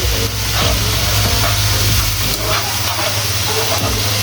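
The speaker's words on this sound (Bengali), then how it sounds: "মশলাটা ভালো করে কষিয়ে নিব।" A spice paste sautéed in a pan for a whole hilsa fry gives a loud, continuous sizzle with a steady hiss and no breaks, and no one talks.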